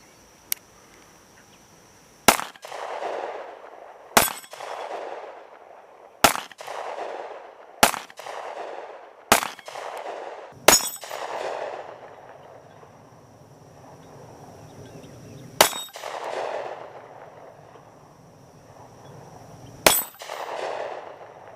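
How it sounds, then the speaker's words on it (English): A Taurus PT111 pistol fires downrange outdoors: nine sharp, loud reports come one at a time at uneven intervals a couple of seconds apart, and each one rings out into a short echoing tail. "So we're going to load up and put a few rounds down range."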